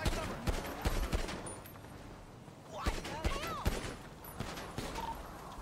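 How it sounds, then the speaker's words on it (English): Gunfire in the game GTA, with bursts of rapid automatic shots and scattered single cracks under excited talking from players. "They're shooting, shooting, shooting"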